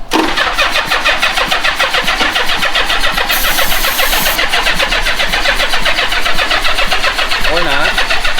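An old Honda Goldwing motorcycle engine cranks steadily on the starter, a loud, fast, rhythmic churning that never catches and runs without a break throughout.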